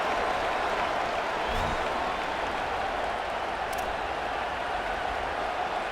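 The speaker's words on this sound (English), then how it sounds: "This crowd trying to do its part to get inside the kicker's head." A large stadium crowd at a Utah versus BYU college football game in a video game roars in a steady, dense wash of cheering and clapping. It holds the same level throughout with no break.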